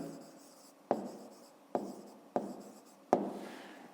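A pen writes numbers on paper in a maths exercise, with four short scratchy strokes, each starting with a sharp tap, close and clear with no talking.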